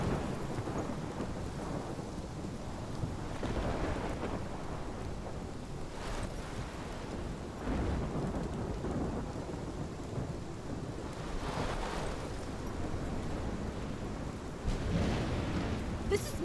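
A heavy thunderstorm in the Life Is Strange video game, with constant pouring rain and repeated rolling thunder swells, loud and enveloping, with no voices.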